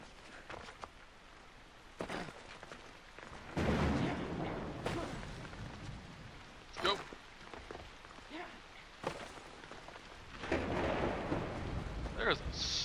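A thunderstorm rolls in within the video game Assassin's Creed Odyssey, with steady rain hiss and low rumbling thunder swelling and fading, some distant booms, and a voice speaking faintly at times.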